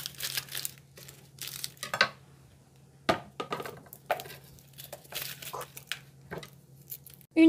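A shallot is peeled by hand in a kitchen, with close, quiet bursts of papery crinkling and tearing, a few small taps against a surface and a faint steady hum underneath.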